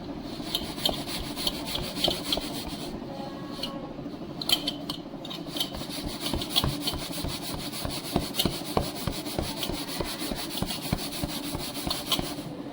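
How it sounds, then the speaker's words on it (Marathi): Hands pat and press bajra millet dough into a round bhakri flatbread, a close, soft, rapid series of slaps and rubbing sounds in a steady rhythm, without speech. "अशी मस्त एकसारखी भाकर थापायची."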